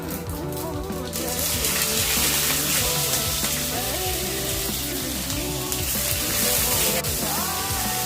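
Onions frying in hot oil for Rayalaseema uggani make a loud, dense, continuous sizzle that swells sharply after a quieter first second, with faint utensil scrapes and clinks mixed in.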